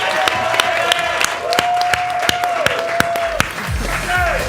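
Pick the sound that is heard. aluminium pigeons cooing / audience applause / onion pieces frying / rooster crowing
audience applause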